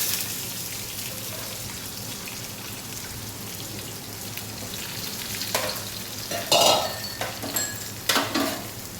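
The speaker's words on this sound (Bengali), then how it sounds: "এরপরে আমরা গোবিন্দভোগের চালটা দিয়ে দেবো।" Gobindobhog rice being stirred as it fries in a pan, giving a steady close sizzle with a few louder scraping and clattering strokes near the end.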